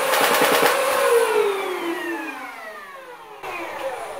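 A custom Nerf Halo MA5 blaster fitted with a Hooligan Rayven full-auto kit fires a rapid burst of darts, then its flywheel motors whine down in a falling tone, with a brief click near the end.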